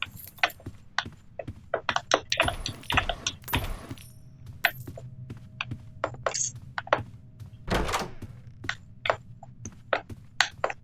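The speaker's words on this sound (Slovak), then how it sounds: "Aha, kľúče, my máme dneska šťastie." Keys jangling in the horror video game Doors: sharp metallic clinks and rattles come in bursts amid clicks, thuds and a low background hum across several seconds.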